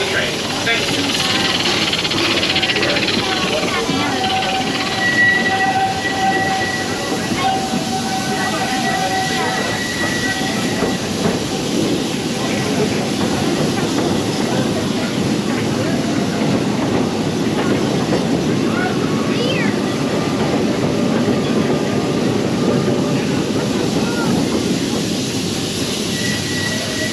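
Steady rumble and rhythmic clatter of the Walt Disney World Railroad train rolling along rails, continuous and fairly loud, with faint squeals now and then and a murmur of voices.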